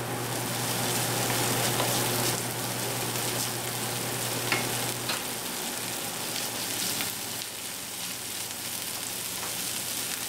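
Onion sizzles steadily in a pan with aji amarillo pepper added, a dense crackling fry with occasional stirring scrapes, moderately close and unbroken, with no talking.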